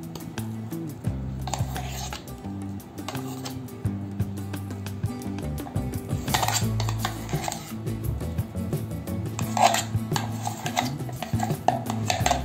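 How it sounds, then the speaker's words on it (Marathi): Ground lentil batter for medu vada beaten by hand in a pot, a steady run of wet slapping and squelching strokes in a loose, continuous rhythm, close and fairly loud, with no talking. "हे पीठ आपण सगळं हाताने फेटून घेऊ। अगदी हलकं होईपर्यंत आपण हे फेटून घेऊ।"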